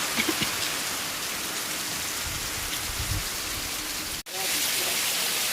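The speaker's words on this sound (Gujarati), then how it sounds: "અત્યારે જે વરસાદ ચાલુ થઈ ગયો" Steady rain pours over a groundnut field as an even, dense hiss of drops on surfaces. It cuts out for a moment near the end, then resumes at the same level.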